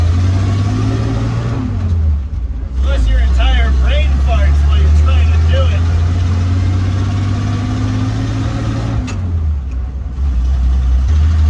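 A 1948 Dodge Power Wagon pickup truck engine drones loudly and steadily, its pitch dropping and rising as gears upshift, with someone talking over it.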